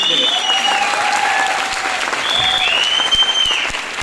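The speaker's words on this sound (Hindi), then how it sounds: "जोरदार तालियां हो जाता है" An audience at a Modicare business gathering bursts into loud, steady applause lasting several seconds, with cheers and whoops riding over the clapping.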